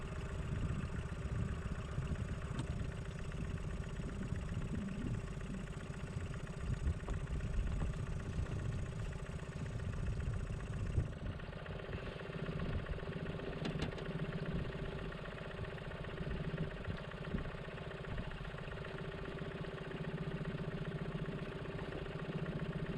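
Inflatable cabin cruiser's outboard engine running steadily as the boat reverses toward the shore, a continuous mid-pitched idling drone with a slight change in tone partway through, heard alone without voices.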